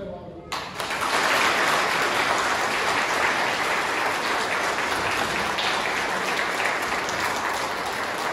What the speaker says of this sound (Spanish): damos un aplauso muy fuerte a nuestra Señora Evangelio.